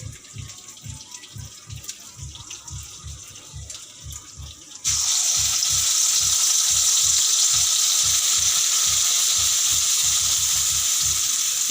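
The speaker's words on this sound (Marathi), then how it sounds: "हे बघा आपला पेस्ट बनवून तयार आहे हा रस्स्यासाठी तर आता ह्याला आपण तेलामध्ये सोडूया" A ground masala paste for a mackerel curry dropped into hot oil bursts into a loud, steady sizzle midway, after a quieter stretch with rhythmic low thumps in the background.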